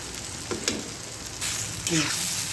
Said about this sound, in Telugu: ఇలా క్రిస్పీగా వంకాయ వచ్చేంత వరకు వేగనివ్వాలి